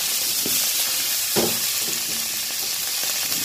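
Smoked pinuneg sausage frying in a little oil, a steady close sizzle broken by a few louder crackles and pops as the pieces are moved around the pan, with no voices.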